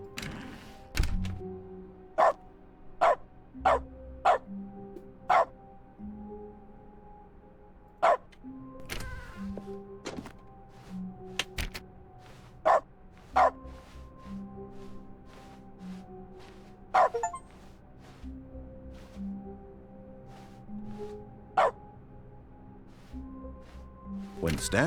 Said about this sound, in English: every time I click, it barks now.